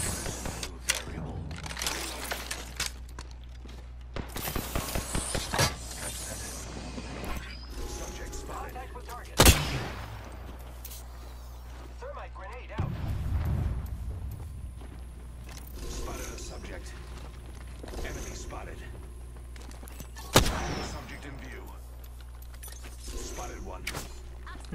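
Gunfire and an exploding grenade in the battle royale game Apex Legends during a ranked match, with sharp bursts and a few loud blasts scattered over a steady hum of game ambience while players talk.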